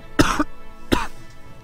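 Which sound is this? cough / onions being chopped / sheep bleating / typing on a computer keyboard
cough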